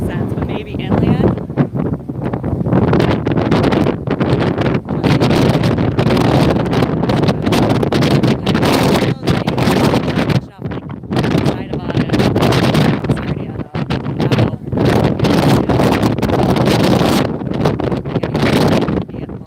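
Strong wind buffets the microphone over rough water, loud gusty rushing and rumbling that surges and dips unevenly throughout, with a brief lull midway and a person talking at times underneath.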